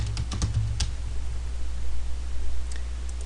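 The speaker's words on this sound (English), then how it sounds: "I'm just going to type in something for the button title" Keys on a computer keyboard are tapped in a quick burst near the start, then a few scattered light keystrokes, all over a steady low electrical hum.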